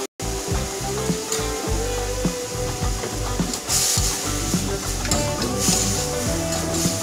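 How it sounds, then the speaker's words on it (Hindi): Chicken pieces sizzle and scrape as they are stirred in a pan with soy sauce, vinegar and black pepper, a continuous close frying hiss with utensil rubbing and no voices. "अब इसे अच्छे से मिक्स करते जाएंगे।"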